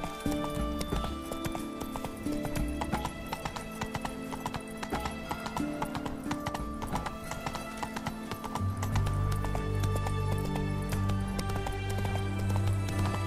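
Roach, Geralt's horse in The Witcher 3: Hearts of Stone, gallops with steady, close, loud clip-clop hoofbeats throughout. Occasional whinnies break through, and the sound grows heavier and fuller toward the end.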